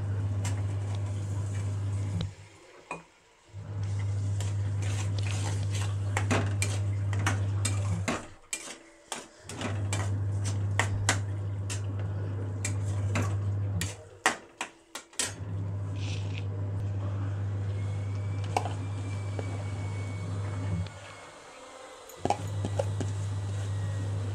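Green peas are tipped into a pan of cooked masala for Maharashtrian dhaba-style methi malai matar and stirred, giving scattered soft clatters and scrapes over a steady low burner hum, with brief pauses between bursts.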